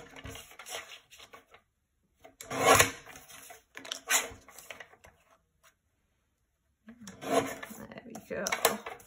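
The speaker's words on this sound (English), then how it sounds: "you can take our guillotine, which I've got here. I'm going to trim that sentiment down" A paper guillotine trims a cardmaking sentiment, giving several short scraping, rasping strokes close by, separated by quiet gaps.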